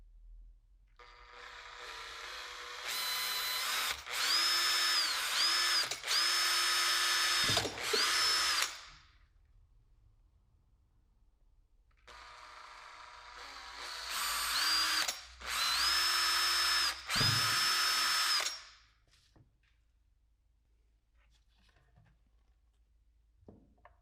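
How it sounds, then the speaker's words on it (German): Power drill boring rivet holes through a fender extension part for a BMW R1300GS motorcycle, two long whining bursts of several pulses each, close, separated by quiet pauses. "Und dann werden die Löcher für die Nieten gebohrt."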